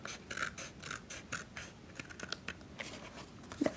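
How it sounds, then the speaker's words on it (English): Scissors snip through cardstock while trimming a handmade Mother's Day card, a series of faint, close, uneven cuts and crisp clicks, with a slightly louder snip near the end. "we just grab our handy dandy scissors, flip it over, and we'll just trim"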